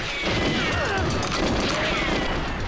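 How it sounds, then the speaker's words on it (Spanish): Dense, continuous clatter of small explosive bangs and crashes in Super Mario Goldeneye 64 game audio, busy and loud throughout with no clear pauses. "esas pequeñas explosiones también me dañan"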